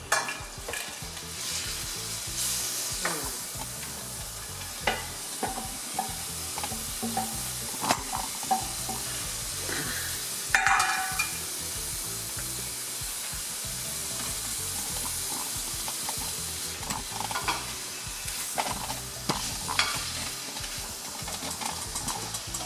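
Vegetables frying in a pot for Nigerian jollof rice with shrimp, a steady loud sizzle with repeated stirring scrapes and clatters of a spoon throughout, close up with no talking.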